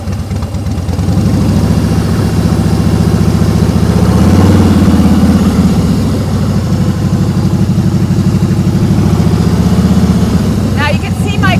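A motorcycle engine idles and pulls at the clutch friction point during slow-speed riding, a loud, steady low rumble that swells slightly in the middle, with a rider talking over it.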